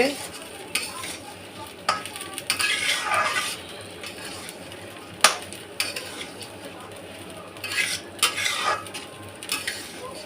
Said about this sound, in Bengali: কড়াইতে দিয়ে একটু এ ভাজা ভাজা করে নেবো অল্প একটু নেড়ে চেড়ে নেবো